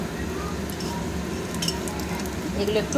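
Loud, steady sizzling of moong dal paste fritters frying in hot mustard oil, with a few light clinks of a utensil at the pan while a voice speaks over it.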